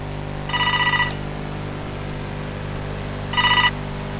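A telephone rings with two clear electronic trilling bursts about three seconds apart, loud and close over a steady low background hum.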